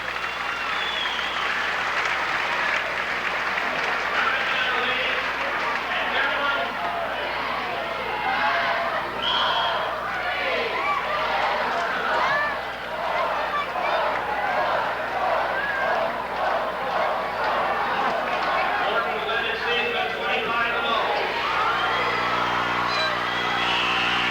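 A high school basketball crowd at a 1979 Morton Potters home game against Rockford East on Parents Night, applauding and cheering loudly as a player leaves the court; continuous roaring clapping with shouts, under faint announcer talk.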